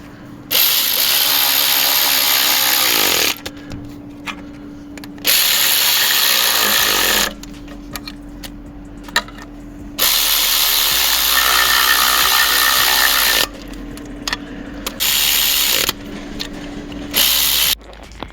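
Ratchet clicking as manifold bolts are tightened on a turbo fitted to a VW Golf Mk6 1.6 TDI, in several bursts of steady close clicking separated by short quiet pauses, with no talk.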